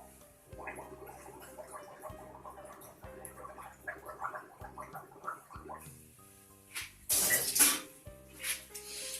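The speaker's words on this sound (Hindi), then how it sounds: "जब आप गार्गल कर रहे हो तो गार्गल करते वक्त थोड़ा सा पानी आप जो गले के अंदर ले सकते हैं" Someone gargles salt water to soothe a cold, making wet, bubbling throat sounds in uneven bursts. Tonal background sound continues throughout, and a louder, harsher splash of gargling comes near the end.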